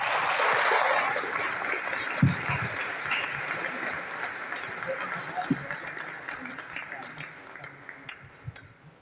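Audience applause after a lecture on the history of the Dominican Order in Mexico, a loud burst of clapping from a crowd that gradually thins and fades into scattered claps, with talk underneath.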